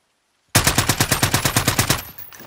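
A rapid burst of automatic gunfire in Call of Duty: Modern Warfare rattles off in quick, evenly spaced shots, loud and close, then cuts off abruptly.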